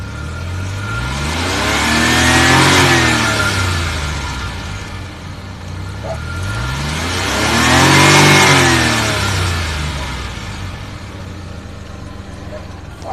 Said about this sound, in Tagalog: Next demo is the sound of fully push accelerator